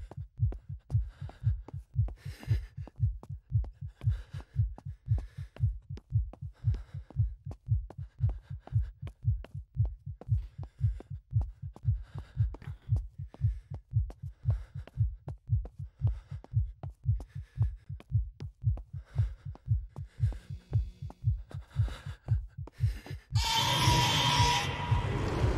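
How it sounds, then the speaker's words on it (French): In the horror video game Infliction, a steady, looping heartbeat thumps on, deep and regular, for about 25 seconds, ending with a brief burst of noise. "Battement de cœur. Ça me perturbe beaucoup."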